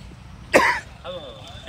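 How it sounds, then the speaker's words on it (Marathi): A single sharp cough bursts out for about a quarter second, fairly close, during an outdoor visit to a farm nursery. Brief talk follows after a pause. "खोकला एकदम"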